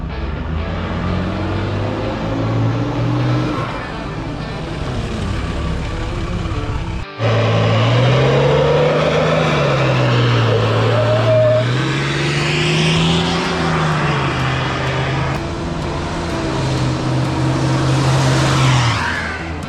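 A Nissan Patrol with a louder exhaust pulls away on a drive, the engine droning steadily, then surging and revving through gear changes, loud and close throughout with no talking.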